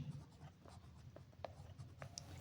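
Pen or chalk scratching out a physics definition on a board or page, a series of soft, quick strokes and taps at close range, fairly quiet with a faint background hum.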